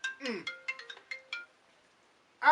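A telephone ringtone plays a bright, melodic run of short tones, loud and close. It falls silent for about a second before the ringing starts again at the end.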